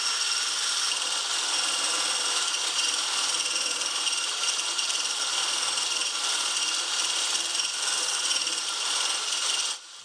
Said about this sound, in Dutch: Klop deze met een mixer totdat het romig is.